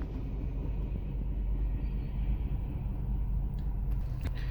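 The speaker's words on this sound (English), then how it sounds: "And there goes the rest of the train," A CSX freight train rolls eastbound past a railroad crossing in Fairfield, Ohio, giving a steady, close, heavy low rumble of wagons that runs throughout, with faint higher clanks near the end.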